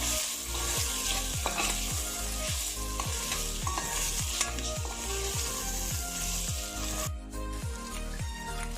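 Carrots sautéing in a pan for forest kebab, a dense continuous sizzle over a low rhythmic thumping pulse, loud and close, with no voices.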